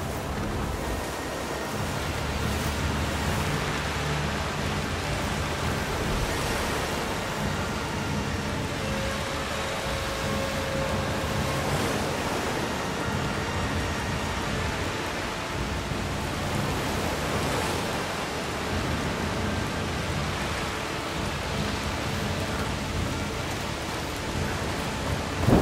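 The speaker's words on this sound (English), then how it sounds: "It's just a storm." A heavy storm lashes down in A Plague Tale: Requiem, with dense, steady rain roaring like surf and rising and falling in gusts for the whole stretch, with no voices.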